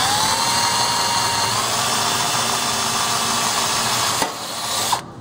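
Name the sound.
drilling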